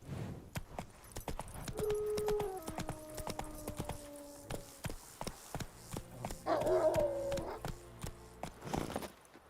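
Rhythmic hoofbeats of a horse galloping in The Witcher 3: Wild Hunt on PS5, a steady run of clopping strikes at moderate loudness beneath game music tones and brief stretches of sustained sound.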